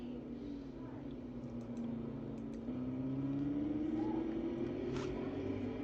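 An onboard race car engine in a racing video game at Sonoma drones steadily, its pitch slowly rising through a gear, under faint crowd-like background noise.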